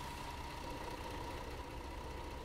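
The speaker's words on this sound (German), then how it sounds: "Vielleicht lag es daran, dass ich den Motor noch laufen hatte." Bus engine idling in Fernbus Simulator, a steady low, even rumble with a faint constant hum on top, unbroken and quiet throughout.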